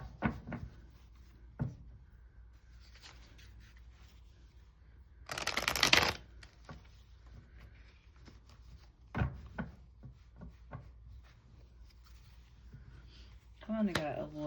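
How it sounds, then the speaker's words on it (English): Tarot cards shuffled and drawn at a table, with a loud burst of riffling in the middle and scattered soft card flicks and taps around it, while a person talks quietly throughout. "we will go ahead and pull a couple advice cards here"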